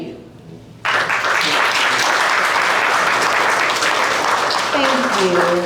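Sudden burst of audience applause at a live talk show on relationships, starting abruptly after a quiet moment and holding steady and loud, with some voices emerging near the end.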